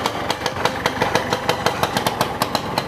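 A motorcycle engine runs close by with a rapid, even putter that swells slightly as it's revved a little.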